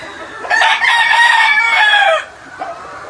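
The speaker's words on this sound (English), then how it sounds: "There's 6 hens here in this pen." Chickens in a gamefarm pen holding six purebred hens, with one bird crowing loudly and close for about two seconds, then a brief short call after a pause.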